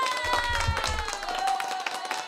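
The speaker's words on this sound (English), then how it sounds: "Let me give y'all one more round of applause" A brief round of applause from a live audience at a political talk event, clapping rising quickly and thinning out within a couple of seconds.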